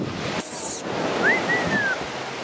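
Sea waves wash onto a beach in a steady, rushing surf. A short, sharp burst of sound cuts in near the start, and a faint whistle-like tone passes midway.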